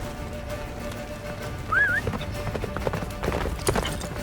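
The horse Roach gallops in The Witcher 3 with rhythmic hoofbeats at moderate distance beneath game music and battle ambience, with a brief whinny-like tone partway through.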